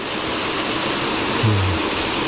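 Water from Myeongji Falls pours steadily down a mountain valley gorge, a broad continuous rushing wash with no voices.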